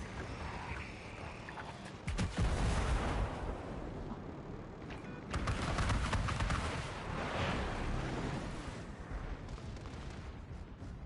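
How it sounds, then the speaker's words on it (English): Incoming missile in the World of Warships Legends naval combat game, with heavy booms and rumbling impacts around 2 and 5.5 seconds over continuous battle noise, loud and close, with no talk. "Missile incoming. Incoming missile detected."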